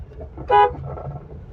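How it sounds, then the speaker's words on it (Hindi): A car horn gives one short toot, close by, amid the low rumble of slow traffic on a narrow road in a busy market. "इनको हॉर्न से कोई फर्क नहीं पड़ता"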